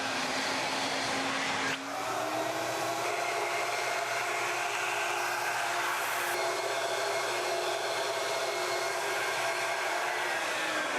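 Ruwac Red Line industrial vacuum motor running steadily, its droning hum shifting to a strained, higher tone when the inlet is closed off, then holding level.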